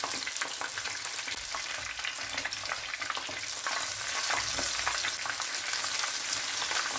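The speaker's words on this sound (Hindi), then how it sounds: "इनको गोल्डन फ्राई करेंगे दोनों साइड से" Chicken donuts fry in hot oil, a dense, steady crackling sizzle that stays close and fairly loud throughout, with occasional light scrapes of turning and no voices.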